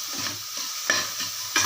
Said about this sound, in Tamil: இது வெங்காயம் நல்லா வதங்கிருச்சு